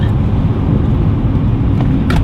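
Lexus GS430 fitted with a Blitz exhaust drives on wet roads in the rain, giving a loud, close, continuous low engine and tyre rumble with no voices.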